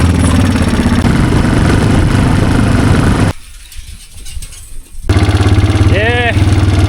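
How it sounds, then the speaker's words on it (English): An old farm ag bike motorcycle engine runs loud and close with a rough, rattly idle. It drops away briefly, then returns, and a short rising whistle-like tone sounds near the end. "the old ag bike, she doesn't sound too healthy"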